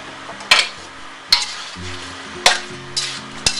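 A spoon stirs drunken chicken with oyster sauce and honey in a pan, with a soft sizzle underneath and four or five sharp scraping clacks against the pan at uneven intervals, close and alone.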